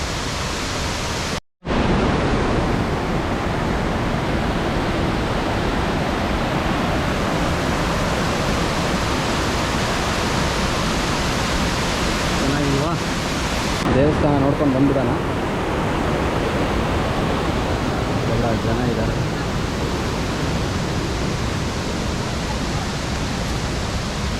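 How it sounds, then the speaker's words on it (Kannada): Bheemeshwara waterfall, hidden in the Karnataka forest, roars as a loud, steady, broadband wash of water that fills the whole stretch without a break, with only a brief drop near the start and a faint voice lost under it. "ಆ ಜಲಪಾತದ ಸೌಂಡಿಂದ ನಾನು ಹೇಳೋದೇನು ನಿಮಗೆ ಕೇಳಿಸಲ್ವೇನೋ"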